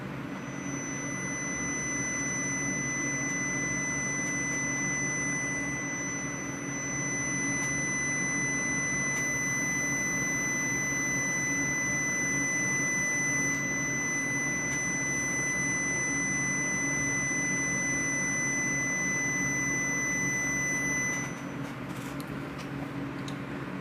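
A steady 2004 hertz scalar tone holds unbroken at one pitch for over twenty seconds, a thin, constant high whine over faint background hiss that stops just before the end.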